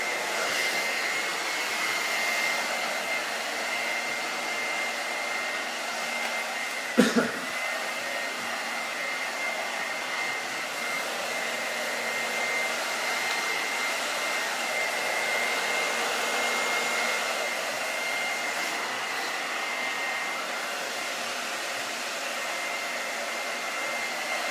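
A hair dryer runs steadily at close range, drying a client's bob haircut with a constant loud blowing whir, broken briefly by one soft knock.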